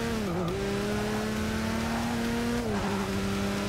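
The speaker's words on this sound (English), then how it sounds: "Tough braking in the turn one for the Corvette. Going in hot." Corvette race car in the Forza Motorsport 6 racing game, its engine holding a steady loud drone that dips briefly under braking, then settles, with a second dip and shift near the end, no talk over it.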